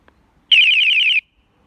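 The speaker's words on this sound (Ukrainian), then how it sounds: "Ось отут стоїть сам п'єзоелемент. Звук, в принципі, непоганий. Бібіка працює як тре." A single steady electronic beep from a piezo buzzer, shrill and warbling slightly, lasting under a second against near silence.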